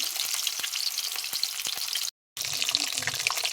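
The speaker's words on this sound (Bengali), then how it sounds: "এবার মাছগুলোকে আমি সুন্দরভাবে লাল লাল করে ভেজে নেব" Steady, crackling sizzle of rupchanda fish frying in hot oil, close and loud, with a brief gap of silence before the frying resumes.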